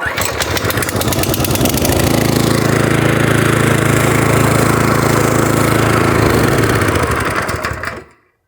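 Grunhelm TS-40S petrol lawn scarifier running on turf: a loud, steady small-engine drone with a rough mechanical rattle holds for about eight seconds, then cuts off abruptly into silence.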